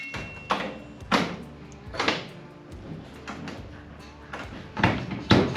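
A door slides open and shut several times, each pass a rumbling whoosh ending in a soft knock, close by with no talking.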